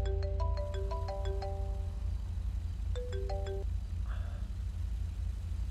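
A phone ringtone in the video game GTA V plays a bright electronic melody of quick, clear notes, then repeats a shorter phrase after a pause, over a steady low rumble of game noise.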